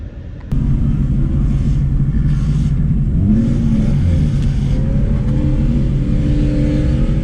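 A Ford Mustang S550 drift car's engine starts abruptly and idles with a deep rumble, then revs up and down a few times, loud and close, with no voices.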